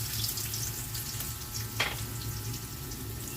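Garlic and ginger frying in a pan for kilawin dilis, a steady close sizzle running throughout with a brief sharper crackle partway through, no talking.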